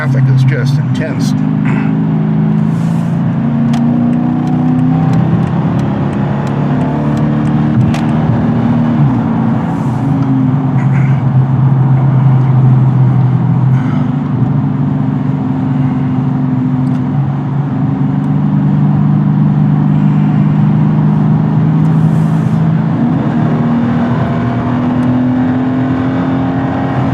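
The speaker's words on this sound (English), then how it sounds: "The traffic is just intense." Steady road noise from inside a moving car in heavy traffic, a constant low engine and tyre drone with occasional swells as vehicles pass, and someone talking over it at times.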